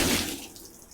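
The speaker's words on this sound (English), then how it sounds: "See what happens when I remove the surface tension of this water balloon." A water balloon bursts in a physics demonstration, giving one loud wet splash of water that fades quickly in under a second.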